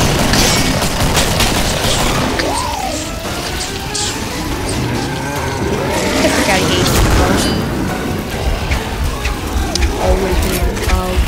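Gunfire and booming blasts in the co-op zombie shooter Killing Floor, a dense, continuous din of shots, explosions and creature roars that fills the whole stretch.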